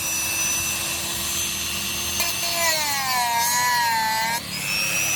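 A small rotary power tool, a Dremel, grinds metal off the side stand of a Royal Enfield Himalayan motorcycle, giving a steady close whine that dips and shifts in pitch as the bit bites into the metal.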